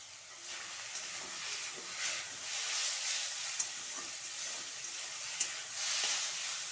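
Potatoes seasoned with turmeric and salt fry steadily in hot oil, a soft continuous sizzle with faint crackles and a couple of sharper pops, no voices.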